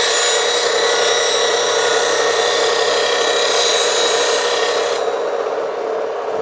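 A woodturning tool is sharpened on a 180-grit CBN grinding wheel, a loud, bright, continuous hiss of steel against the wheel that cuts off near the end, leaving a softer whir as the wheel keeps spinning.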